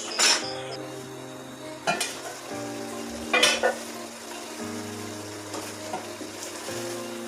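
Turai (ridge gourd) sabzi with meat sizzling in a pan on a low flame, a steady soft frying hiss broken by a few clinks of a spoon against the pot, close by and with no talking.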